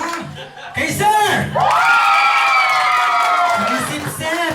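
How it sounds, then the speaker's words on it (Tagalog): A lively indoor crowd at a family raffle or gift drawing shouts and cheers together, with whoops and cries rising into a sustained loud roar before settling back into excited chatter. "May sigawan pa."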